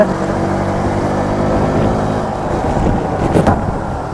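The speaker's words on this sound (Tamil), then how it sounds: "காற்று ஓவர் அடிக்க ஆரம்பிக்குது." Strong wind roars against a rider's microphone on a motorbike climbing a hill road from Theni to Bodimettu, a loud, constant buffeting rumble mixed with the engine's drone.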